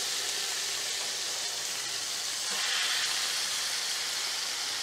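Beef searing in a large pot gives off a steady, fairly faint hiss of sizzling fat, continuous and alone.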